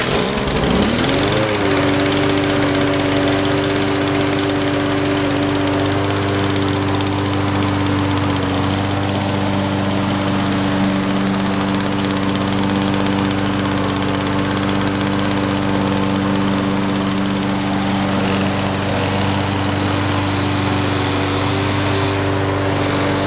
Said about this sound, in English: let's listen to the two of them side by side, and then we'll have a comparison between the four-stroke and the two-stroke